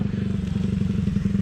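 Motorcycle ridden off-road in third gear over uneven ground, its engine a steady pulsing drone with rhythmic low thumps and rattles, close and continuous.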